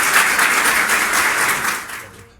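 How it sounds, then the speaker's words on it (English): An audience claps together at a quiz show event honouring a chairman's 52nd birthday, a close, full round of applause that holds steady and then fades away at the end. "Give them a round of applause."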